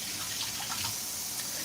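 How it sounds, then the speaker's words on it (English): Water splashes and trickles as it is poured into a small bowl for a cat, a brief, close, bright pouring sound with no talk. "let me put some water in one of these for her"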